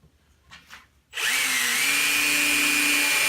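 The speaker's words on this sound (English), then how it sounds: "Drill a hole so you don't split your wood" Power drill boring a hole in a wooden board for a DIY rack, starting after a few soft knocks with a sharp high whine that settles into a steady, loud, close drone.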